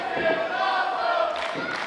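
A wrestling crowd roars through the closing stretch of a main-event match, a loud, steady wall of cheering and shouting that swells briefly near the end, with no speech.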